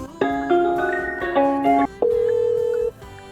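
A telephone line plays a series of tones, shifting pitches, then a long steady beep, like an automated signal that a call won't go through.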